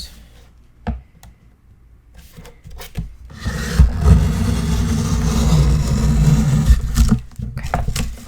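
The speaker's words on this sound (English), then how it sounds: "That's a little bit of a struggle for my trimmer" Paper trimmer blade slicing through a nested stack of three craft paper pieces for a mini album, a loud sustained rasping, grinding cut lasting several seconds after a few short clicks and taps.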